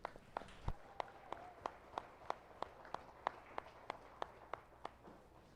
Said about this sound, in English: Folks, how about one more round of applause for our reserve grand champion, Callie Johnson.